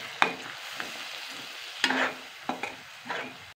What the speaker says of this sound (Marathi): हे सर्व चांगलं हलवून घ्यावं